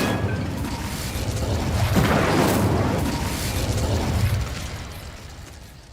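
An Incendio fire spell cast in Hogwarts Legacy bursts out as a rushing, fiery whoosh that swells to a peak midway and then slowly fades, loud and alone without talk.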